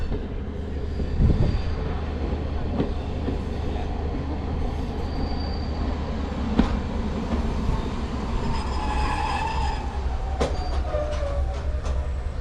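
Heritage steam railway train at Holt station after the engine ran round and took on water, with rumbling carriages, squealing wheels and metallic clanks, fairly close and continuous.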